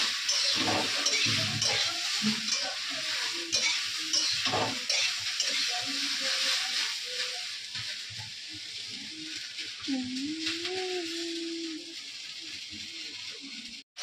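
Food sizzles and fries in a pan in a home Bengali kitchen, a steady crackling hiss close by, with intermittent stirring and utensil scrapes, and a faint voice briefly heard toward the end.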